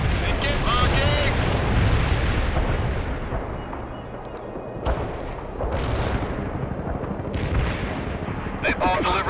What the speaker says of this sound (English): Mortar barrage executed.